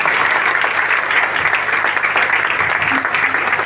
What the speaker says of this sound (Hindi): जोरदार तालियों, जोरदार तालियां, जोरदार तालियां,